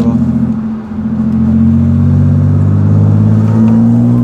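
Supercharged V6 car engine revving hard and steadily under acceleration, a loud, sustained drone with a rising whine likened to an airplane, close and continuous throughout.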